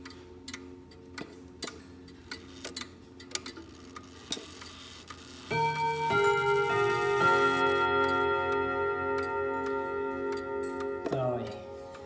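A French Vedette clock with 8 steel rods and 8 hammers chimes the quarter hour: soft ticking first, then a sequence of ringing metallic tones that overlap and sustain for several seconds before being cut off.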